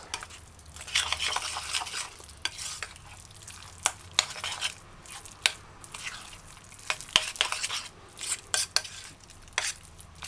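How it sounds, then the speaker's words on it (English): Vegetable fritter batter being stirred by hand in a bowl, a steady wet squishing with sharp clicks of the utensil against the side, close and fairly quiet, with no voices. "mix your vegetable fritters batter smooth"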